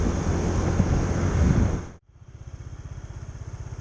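Honda Click 110 scooter riding on a road, with steady wind roar over the engine that suddenly drops away, leaving a low, pulsing engine putter.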